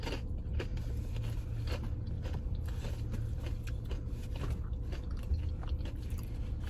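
Someone bites and chews cream-cheese-filled crab rangoons without sauce, close to the microphone. The crunching and chewing are loud and crackly and run on without pause, over a steady low background rumble.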